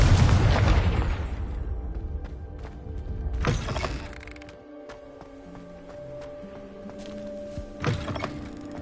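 Spell explosion from the Hogwarts Legacy video game, a loud booming blast at the start that fades out, followed by two sharper impact thuds amid a low ambient game hum.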